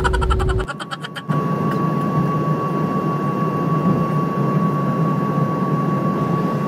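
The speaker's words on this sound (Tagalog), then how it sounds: "Ano mga Bex, dilipad na kami eh" Inside an airplane cabin as it takes off, jet engines roar in a loud, steady, broad rush with a constant high whine, after a brief burst of rattling and changing tones at the start; no one talks.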